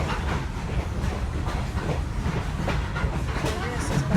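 The Great Smoky Mountain Railroad excursion train rolls along its rails through the Nantahala Gorge, a steady low rumble and rattle of the carriage heard from aboard, with a voice speaking over it.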